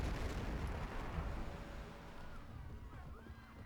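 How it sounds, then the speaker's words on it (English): A warship in Civilization V firing on the city of Braga, a deep rumbling cannon boom that fades into a low, fairly faint rolling decay. "This ship needs to go here and fire on Braga."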